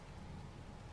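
Steady rain falls on a farm during the season before harvest, a constant broadband hiss with no breaks and no voices, fairly faint overall.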